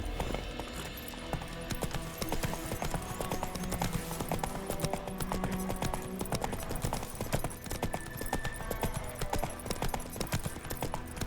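A horse's hooves clip-clop in a steady, continuous rhythm through the whole stretch in The Witcher 3: Wild Hunt, set against a busy, dense game soundscape.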